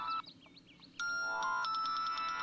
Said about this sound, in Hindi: तुम्हारे फोन की बेल बज रही है, फोन उठाओ।